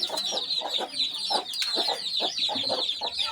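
A hen clucks repeatedly at close range in a rapid, uneven series, mixed with chirping from chicks.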